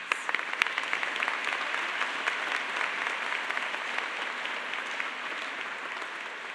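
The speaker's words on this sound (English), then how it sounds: "So let's all give them one more round of applause." A graduation commencement audience claps for doctoral candidates in sustained, even applause that carries on steadily from start to finish, with a few louder claps early on.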